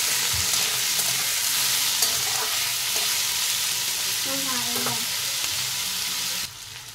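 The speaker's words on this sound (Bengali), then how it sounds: "পেঁয়াজের সাথে আলুটাও ভালো করে ভাজা হয়ে যাবে" Potatoes and onions fry in a pan for a gourd-and-egg dish, a steady broadband sizzle running throughout with scraping stirs and utensil clinks at intervals, close and fairly loud, fading near the end.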